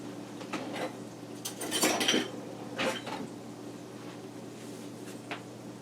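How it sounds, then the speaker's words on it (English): Food is scraped and spooned into a small mixing bowl, making a few light clinks and taps of utensil against the bowl over a steady background hum. "So now I'm going to take this and put it in a small mixing bowl and just set it aside."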